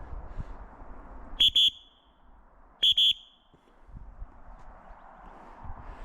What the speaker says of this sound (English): I'm gonna blow a whistle here, a referee whistle